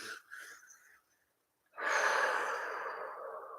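A person exhaling with a sighing breath during a fascial movement exercise class, followed after a short silence by a long, strong breath through the mouth, close and clear with no talking.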